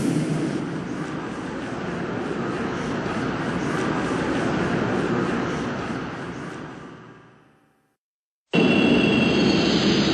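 A train in the Shin Megami Tensei III Nocturne HD Remaster video game rumbles steadily, then fades away into a moment of silence before a new burst of sound cuts in abruptly.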